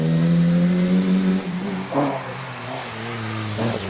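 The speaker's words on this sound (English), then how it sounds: "classic liveried Volkswagen Golf Mark 1 GTI once again, this time in the hands of Josh Humphreys" A classic-liveried Volkswagen Golf Mark 1 GTI rally car on a hillclimb revs loudly up close, its engine note holding then dropping and rising again as it pulls away over four seconds.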